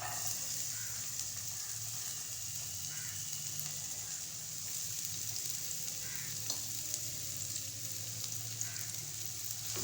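A medium-size onion sautés in well-heated oil in a pan during chicken bun preparation, giving a steady, even sizzle and crackle that runs unbroken throughout, close and moderately loud, with no voices.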